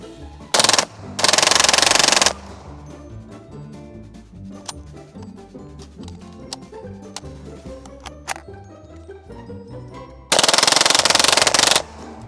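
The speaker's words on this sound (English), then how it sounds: "I don't know what else to film other than just shooting it, so we're gonna unload some more" Kriss Vector fitted with a forced reset trigger firing outdoors: two loud, rapid bursts of gunshots at the start and end, with a long stretch of quieter mechanical clicking and ticking between them.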